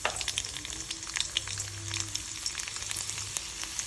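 Garlic fries in hot oil with cumin and mustard seeds, making a faint, continuous sizzle with scattered crisp pops and crackles. No voices are heard.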